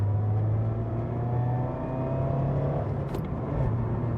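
A 2024 Mazda MX-5 RF GT pulls hard and steady in third gear, its low rumble climbing in pitch as it accelerates, with constant road and wind noise underneath and no talking.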